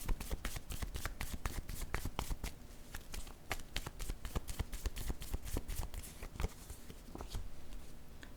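Tarot cards are shuffled close up in a steady, quiet run of crisp riffling flicks and soft slaps that continues without pause.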